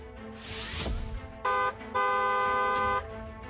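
A car horn honks twice up close, a short beep then a longer blast, after a whooshing sound of a passing vehicle.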